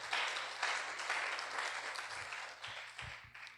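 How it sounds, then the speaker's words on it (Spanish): Applause from a church congregation during a Spanish-language sermon, a steady wash of clapping that holds for several seconds and gradually thins toward the end. "dale una ofrenda de palmas a Jesús por esto"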